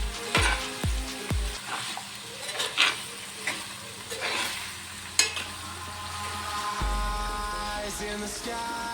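Pepper chicken fries with spices in a pan, giving a continuous sizzle with scattered stirring scrapes and clinks. A low hum rises briefly near the end, and no one speaks.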